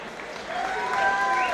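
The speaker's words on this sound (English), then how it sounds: "please, a massive round of applause for both fighters" A crowd applauds both fighters after a Muay Thai bout in the ring, with steady clapping and cheering that grows slightly louder, over a ringing tone from the venue.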